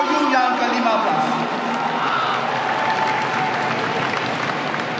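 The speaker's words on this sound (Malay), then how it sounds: "marilah kita bagi satu tepukan yang gemuruh bagi calon-calon Perikatan Nasional PRU yang ke-15" A dense, steady roar of crowd applause and cheering for Perikatan Nasional candidates at a GE15 candidate announcement event, loud and sustained throughout, with voices mixed into the clapping.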